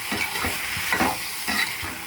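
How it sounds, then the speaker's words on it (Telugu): Mango, brinjal and green gram curry with chili powder, turmeric and salt in oil is stirred in a pan, giving a short close burst of scraping strokes over a soft frying sizzle, with no talking. "మొత్తం అంతా కలిపిస్తున్నాం"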